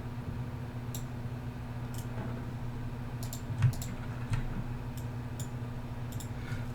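Light keystrokes on a computer keyboard tap out a short word in scattered, quiet clicks over a steady electrical hum.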